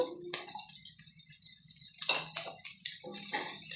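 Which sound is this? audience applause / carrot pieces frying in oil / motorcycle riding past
carrot pieces frying in oil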